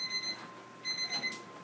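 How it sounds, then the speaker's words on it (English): A kitchen timer rings while noodles cook, giving two short bursts of rapid, bright electronic beeping separated by a brief gap, fairly quiet with no voices over it. "Oh, hey, look at that! The timer went off."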